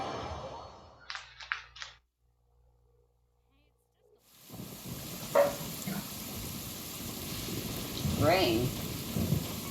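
Rain and thunder in the video game Genshin Impact, a low rumble and steady rain hiss that build after a short quiet gap, mixed with other game sounds and brief voices.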